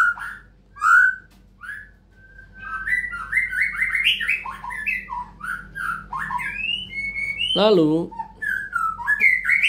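An oriental magpie-robin (murai) kept in a cage sings a string of varied whistled phrases and chirps, fairly close and clear, with a low hum underneath and a person speaking briefly.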